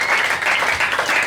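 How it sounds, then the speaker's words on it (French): Congregation at a wedding service bursts into brief, dense applause for the Lord, a close, loud burst of clapping lasting only a moment. "on peut acclamer le Seigneur"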